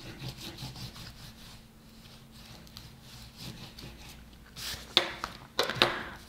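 Glued paper is pressed down and rubbed flat on a handmade baby-themed card, giving a faint, soft scraping. A few sharper rubbing strokes come near the end.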